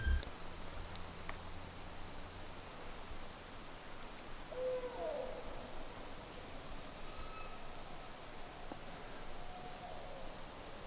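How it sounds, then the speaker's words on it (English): An owl gives a single faint, distant hoot at night, set against steady hissing outdoor background noise. "It's hoot owl."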